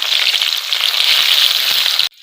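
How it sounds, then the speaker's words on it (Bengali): Chopped onions with bay leaf and whole cumin frying in hot oil, a loud, dense, continuous sizzle held close for about two seconds before cutting off abruptly. "পেঁয়াজটা লাল করে ভেজে নিব।"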